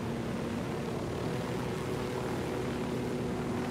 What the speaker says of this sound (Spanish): por dejar el helicóptero en la zona de arriba de la montaña